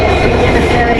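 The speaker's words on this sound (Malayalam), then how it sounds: "തഞ്ചാവൂർ പോണ ട്രെയിനാണല്ലോ." A passenger train bound for Thanjavur, running on the Madurai to Rameswaram line, gives a loud, steady, close rolling rumble of wheels and carriages throughout the brief moment.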